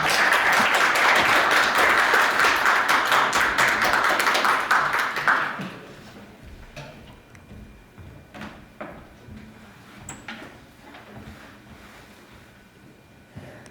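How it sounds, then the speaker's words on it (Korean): An audience at a tree-planting symposium applauds in a loud, dense burst for about five seconds, then the clapping stops abruptly, leaving quiet room sounds with occasional soft knocks and shuffles. "박수로 와주십시오."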